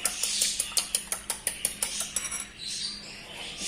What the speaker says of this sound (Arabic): نطرب دابا البيض، 3 ديال الحبات ديال البيض